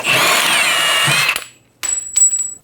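Power tool loosening a nut and bolt on the rear shock absorber mount of a 2011-2014 Hyundai Sonata: a loud, steady whirring burst for over a second, then a pause and two shorter, sharper spins with a high ringing whine.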